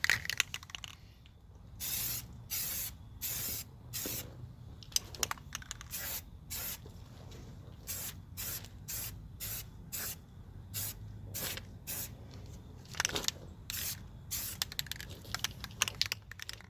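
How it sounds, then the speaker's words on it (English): Spray can laying a primer coat on BMW E46 330Ci brake calipers, a series of sharp hissing bursts of a second or so each with short gaps, close and crisp. "I'm going to do 2 more coats of primer before the actual paint."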